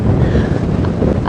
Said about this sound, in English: The plains on Cheetah Plains is not really the place to be on a windy day.